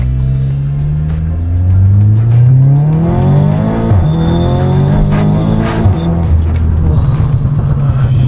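An Audi S3 Quattro Stage 4 accelerates hard, its loud engine note rising steadily through the gears with sharp shift breaks and a brief tire squeal, heard up close from inside the car.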